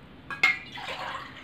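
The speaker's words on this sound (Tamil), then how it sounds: "அதாவது ஒரு 600 ml தண்ணி அளவுக்கு இதில் ஊற்றிடுறேன்." Water poured from a tumbler into a pan for village-style mutton bone soup, a short splash followed by a steady fill and gurgle, close and clear with no talk.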